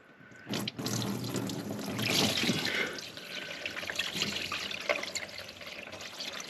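Water drains from a race truck's transmission, pouring and splashing in a steady gush, with a sharp clank near the start and small drips and spatters as it flows.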